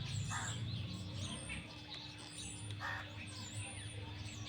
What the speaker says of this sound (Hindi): लेकिन पक्षियों की चहचहाट